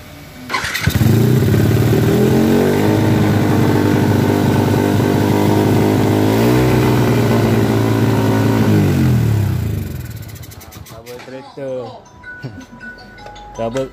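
A Yamaha LC135 motorcycle fitted with a 34mm carburettor starts up and runs loud and close, holding a raspy, rising rev for several seconds before cutting back, with people talking over and after the engine noise.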